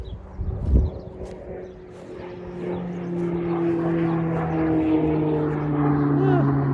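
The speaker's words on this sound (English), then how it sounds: "Jet going past." A jet aircraft passes over rural French farmland as a steady low drone that slowly swells and grows louder across several seconds, with an earlier brief thump nearby.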